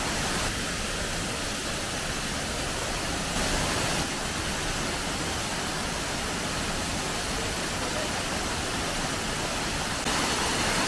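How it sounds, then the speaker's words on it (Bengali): A small waterfall in a hilly forest in Chhattisgarh pours steadily, a loud, even, hissing rush of falling water heard close by with no other sounds. "একটু নিচে গেলে একটি সুন্দর ঝর্ণার দেখা পাওয়া যায়"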